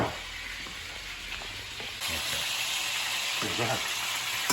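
Meat searing in a frying pan for Italian Sunday gravy gives a steady close sizzle that grows louder halfway through, with a few clinks and short spoken remarks over it.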